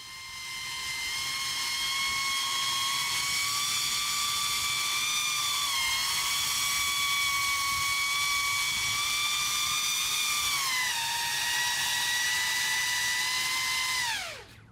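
Electric motor of a hovering SpaceX model rocket running at near full throttle, a loud sustained high-pitched whine that dips slightly twice, then winds down sharply at the end, no talk.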